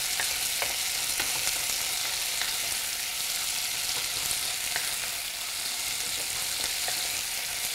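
Sliced onions fry in a pan for an Indian recipe, a steady dense sizzle running throughout with soft scraping clicks as they are stirred now and then, close and fairly loud with no voices.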